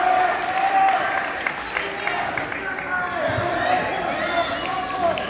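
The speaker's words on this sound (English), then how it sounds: "Large crowd here." Large crowd at a high school wrestling match, a continuous loud murmur and scattered shouts filling the gym, with an announcer talking over it.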